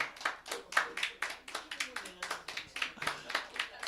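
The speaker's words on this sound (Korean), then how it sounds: "우리 승만이는 벌떡 일어나서 지금 박수를 치고 있고요" A person rises to their feet at a church service and claps steadily, a rhythmic run of sharp, close handclaps continuing throughout, with faint voices murmuring underneath.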